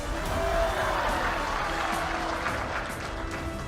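A large crowd at a political rally in Andhra Pradesh claps steadily, a dense, even wash of applause that stays loud for the whole stretch with faint voices mixed in.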